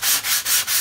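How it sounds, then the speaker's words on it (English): Sanding a primed kit by hand with 220 grit sandpaper: three steady, close, even back-and-forth rasping strokes in a quick rhythm, with no voices. "What I'll be doing is just sanding with a 220 grit paper"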